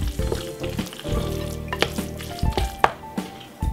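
Sweet mashed potato being mixed in a pan, giving a steady soft sizzle with scraping and tapping of a utensil against the pan, several sharper knocks near the end, no voices.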